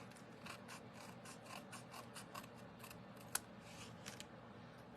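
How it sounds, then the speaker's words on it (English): Scissors snip off the small end of a paper card strip, giving a quick series of faint, close crisp cuts over a quiet background, with no talking. "And then I'm going to cut this little end right here off."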